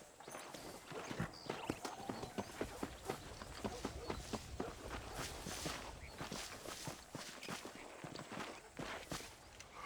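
Horse hooves clip-clop at a steady trotting rhythm in the Red Dead Redemption video game, close and fairly loud, with voices speaking over the footfalls.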